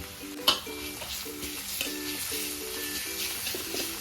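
Onion and garlic fry in a hot pan with a steady sizzle, overlaid by a repeating scrape-and-tap rhythm of stirring, with one sharp clink near the start and no talking.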